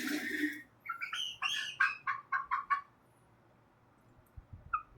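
A hen gives a short run of clucking calls, about eight clear notes in a quick uneven series, close and fairly quiet, followed by a brief pause and a couple of faint extra sounds.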